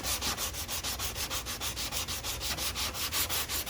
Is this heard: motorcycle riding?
no